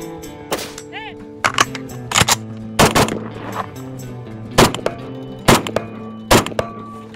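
Single shots ring out from an Israeli Galil ACE rifle: about seven loud, sharp cracks fired at uneven intervals, with short gaps of quieter background between them.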